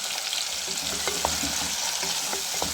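Tomatoes and green chillies fry in a pan for chana dal with a constant, close sizzle and hiss, while a spatula stirs them in brief scraping strokes.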